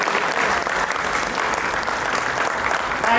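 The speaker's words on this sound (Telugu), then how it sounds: "గూడూరు నారాయణ రెడ్డి గారికి చాలా చాలా గట్టిగా మనం అందరం కూడా చప్పట్లతో ఒక్కసారి హ్యాట్స్ ఆఫ్ చేసుకోవాలి" Audience clapping at a speech event for the Razakar film, a dense continuous burst of applause from a large crowd, loud and sustained throughout.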